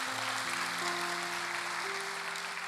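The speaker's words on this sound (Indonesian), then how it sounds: "berikan tepuk tangan buat Tuhan Yesus." A church congregation applauds during a Sunday worship service, a steady broadband wash of clapping throughout with sustained tones, likely music, underneath.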